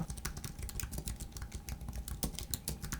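Fast, uneven typing on a computer keyboard, a dense stream of close, clattering key clicks with no pauses for speech.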